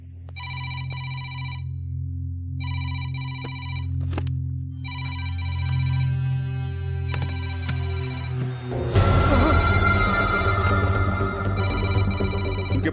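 Phone ringtone ringing in a Telugu movie scene, repeated electronic ring bursts in a regular pattern over a low background score that swells loudly toward the end.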